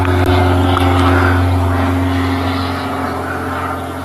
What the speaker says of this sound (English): There's a plane that just came over. That's one of the anti-poaching patrol planes